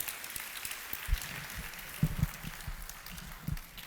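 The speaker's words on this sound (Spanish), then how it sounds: "Démosle un aplauso al Señor." A church congregation applauds, a soft, scattered clapping heard at a distance with occasional louder hits.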